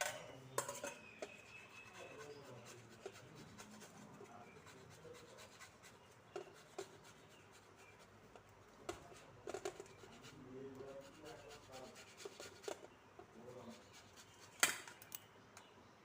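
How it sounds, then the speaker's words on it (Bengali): Boiled potatoes are grated into a bowl, giving quiet, irregular rasping and scraping strokes with occasional soft knocks, close and faint. "আলু দুটো গ্রেট করে নিয়েছি"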